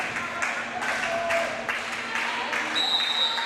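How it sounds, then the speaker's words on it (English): Spectators at a college volleyball match between Tabor College and Baker University clap in a steady rhythm across the gym, the crowd noise running under an announcer's commentary. "Crowd trying to get into it, do some clapping."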